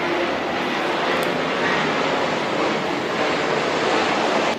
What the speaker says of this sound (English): Let me wait for this airplane to pass.